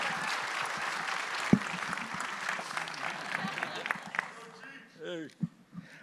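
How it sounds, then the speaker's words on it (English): Audience applause at a SXSW 2023 conversation event for Cheech Marin, a steady wash of many hands clapping that fades out near the end, followed by a voice speaking briefly. "can he get a round of applause real quick"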